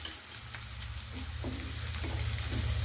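Small onions fry with coarse rock salt in a pan for an egg gravy, giving a steady, close sizzle with faint stirring scrapes and a low hum beneath; no one speaks.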